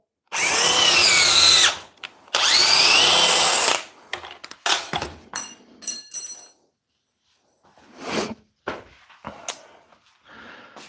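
Milwaukee M12 impact driver sinking a screw into wood without a pilot hole: two loud whirring runs of about two seconds each, followed by scattered knocks and short handling bursts, then a few quieter clunks after a pause.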